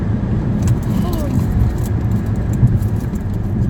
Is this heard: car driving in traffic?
yes